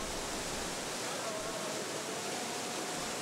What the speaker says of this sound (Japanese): 千月とともに滝へ